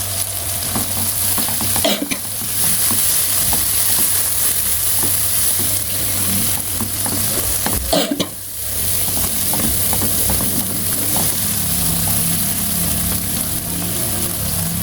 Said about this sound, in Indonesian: Tumiskan sampai matang dan kalau mau lebih beraroma bisa ditambah 2 lembar daun salam dan 1 buah asam kandis.